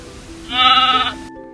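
A single sheep or goat bleat, a wavering tonal call of about half a second, heard close and clear over a faint steady background hum.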